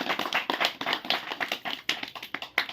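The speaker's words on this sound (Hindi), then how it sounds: "उसके लिए ताली बजाएंगे, स्वागत करेंगे" A small village gathering claps to welcome a guest onto the stage: quiet, uneven clapping from a handful of people, heard as distinct sharp slaps with no talking over it.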